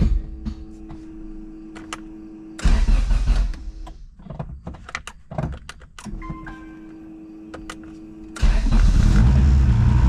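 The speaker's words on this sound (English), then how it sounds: "I'm gonna prime the fuel one more time" Electric fuel pump priming on Hector's D2B-powered EG hatch: a steady motor whine hums in two long stretches, broken up by loud, irregular mechanical bursts and clunks close by.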